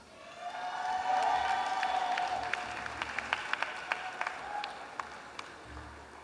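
Applause and cheering from a graduation crowd at a 2024 business school commencement, a broad steady wash of clapping that swells early, then thins into scattered sharp claps and a few shouts toward the end.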